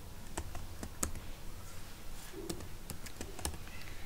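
Computer keyboard typed in short bursts of key clicks at an irregular pace, fairly close and quiet over a low steady room hum.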